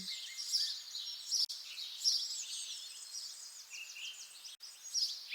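Several birds chirp and trill at moderate distance in a spring forest, high-pitched calls repeating in overlapping bursts against a quiet outdoor background.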